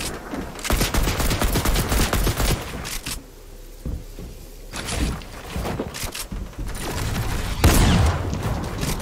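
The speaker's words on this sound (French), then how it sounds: "Balle à blanc." Rapid bursts of blank-round gunfire crack out loudly in repeated volleys, broken by a short lull, then resume with heavy booming shots.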